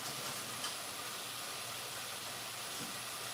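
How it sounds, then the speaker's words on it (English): Cold water running over rice in a pot, a steady, faint, hissing wash of water that continues evenly throughout with no voices. "Rinse your rice really well with cold water."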